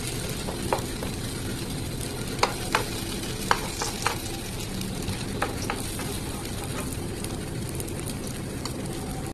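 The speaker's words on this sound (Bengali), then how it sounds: "তো আমি একটু নেড়ে ছেড়ে তেল সব দিকে লাগিয়ে দিচ্ছি" A spoon stirs oil around a pan over a low-medium gas flame while cooking potatoes, a steady close sizzle broken by occasional sharp scrapes and knocks against the pan, with no voices.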